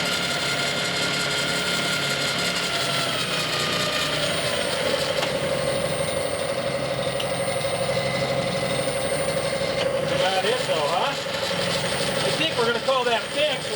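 A Clausing metal lathe with crosshaft variable-speed drive runs at about 1,066 RPM, giving a steady mechanical hum and whine with a constant tone, close and continuous, with brief warbling squeaks near the end.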